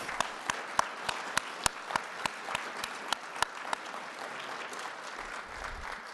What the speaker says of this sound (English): Can we have another round of applause for our McNair graduates?